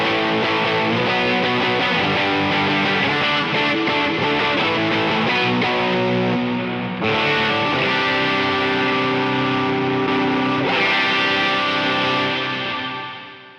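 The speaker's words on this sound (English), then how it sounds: "here's the ODR without the blues breaker" Electric guitar played through an ODR overdrive pedal without a Blues Breaker, giving a dense, gritty driven tone of strummed chords and riffs that rings continuously and loudly for several seconds, with no voices.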